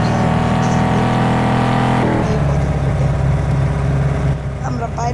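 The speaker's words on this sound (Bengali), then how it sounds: "আরে বাট ইঞ্জিন স্টার্ট" Car engine in a mobile racing game starting and revving, loud and continuous with a shift in pitch partway through, mixed with a player's voice talking.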